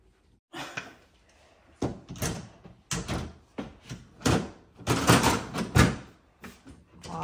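A wooden drawer is fitted into a cabinet: a series of close, sharp knocks and sliding clunks come in irregular bursts with short pauses between them.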